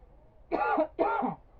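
Two close, raspy coughs follow each other in quick succession from a woman with a cold and an itchy throat, sharp against a quiet background.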